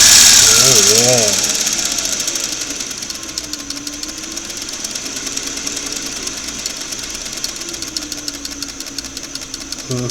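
A Singer sewing machine motor, run through a restored foot pedal with carbon pile resistors, whirs steadily at full speed as a continuous buzzing hum, with a voice briefly heard at the start.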